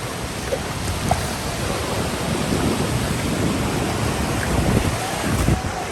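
Waves wash and wind blows steadily at a warm beach, a dense continuous roar with light buffeting on the microphone and no distinct breakers or voices standing out.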